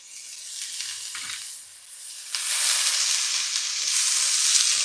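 Steak and garlic sizzling in a pot, a steady broadband frying hiss that swells louder partway through, with faint stirring clinks and no voices.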